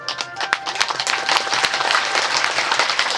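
Audience applause at a Shiva Mahapuran religious discourse held at a Mahadev temple in a village, dense sustained clapping from a crowd with a few sharper individual claps, fairly loud and continuous throughout.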